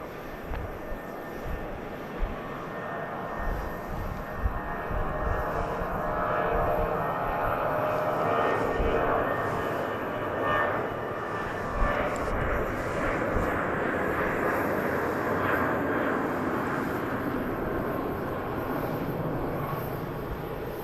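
An airplane rolls along the runway at Dallas Love Field, its engine roar swelling and holding steady as a broad, continuous rumble for the whole stretch, with no voices heard.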